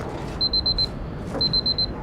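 An electronic alarm in a Dragon Age 2 game sounds two bursts of four rapid high beeps each, close and clear over a quiet background.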